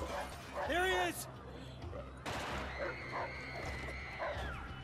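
Dogs bark and yip in the video game Battlefield 4, a few sharp barks in quick succession amid game noise, with people talking over them.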